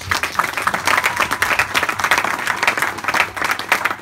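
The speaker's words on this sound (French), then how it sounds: "Donnons une acclamation." A church congregation applauds during a French-language sermon, with steady, dense clapping from a crowd in a hall sustained for several seconds, the sound alone without talk.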